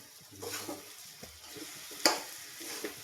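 Green spiny gourd (kantola) sizzles steadily in a hot pan with soft stirring, and a single sharp clatter of a utensil rings out near the middle.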